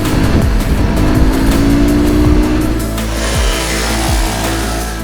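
A Royal Enfield Guerrilla 450 motorcycle ridden at pace through corners on a first ride, its engine droning loud and close with rising and falling revs and gear changes, alone without talk.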